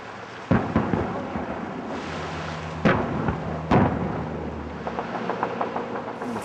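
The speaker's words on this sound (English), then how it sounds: "You can hear the bombs firing and hitting the ground or the buildings there." Heavy booms of bombs in a conflict area where smoke is rising, three sharp loud blasts standing out against a constant rumbling, crackling roar, with fainter impacts and sputters near the end; no talking.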